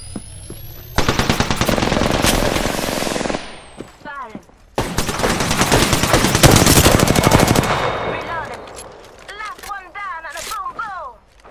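Video game gunfire in rapid automatic bursts, loud and close, broken by a short pause, then followed by sci-fi chirping effects.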